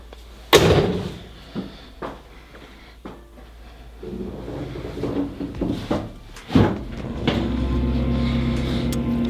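A 1978 Chevy El Camino's door opens and shuts with a few solid thuds and latch clicks, close by, followed by an engine-like hum settling in.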